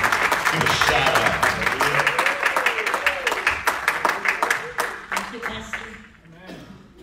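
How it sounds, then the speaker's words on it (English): A church congregation claps hands together in a dense, lively burst, with a few voices over it, before the clapping thins and fades out toward the end. "Let's just give the Lord a great big hand clap"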